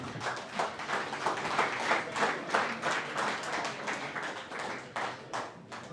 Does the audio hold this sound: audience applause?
yes